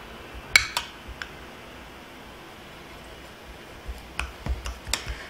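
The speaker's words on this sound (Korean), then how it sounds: "파슬리, 버터를 섞어주세요" Garlic, parsley and butter are mixed in a bowl for garlic bread served with French onion soup, giving soft scattered clicks and scrapes of a utensil against the bowl, fairly quiet, with no talk.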